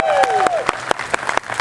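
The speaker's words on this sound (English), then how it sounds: "Now, everybody clap your hands on that one." A rally crowd clapping hands, a quick series of distinct claps that start under a speaker's voice and then continue irregularly on their own.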